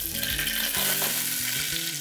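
Onion sizzling in hot oil in a pan on medium heat, a steady bright crackle throughout with a low rumbling hum underneath, close and fairly loud, no voices.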